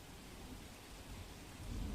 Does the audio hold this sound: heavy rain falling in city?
yes